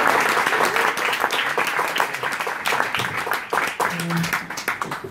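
Steady applause from a crowd at a jazz performance, dense clapping filling the whole stretch with a few whoops or voices mixed in.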